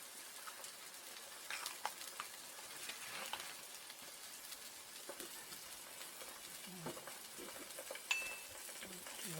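An egg fries in a pan on an off-grid homestead stove: a faint, quiet crackle and sizzle with occasional soft scrapes and clicks from the pan.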